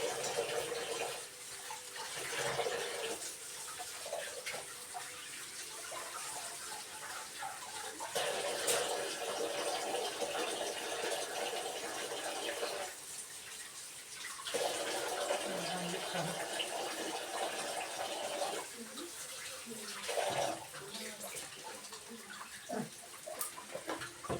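Lettuce is washed under a running kitchen tap, with steady splashing and gushing water that rises and falls as the leaves are moved through the stream.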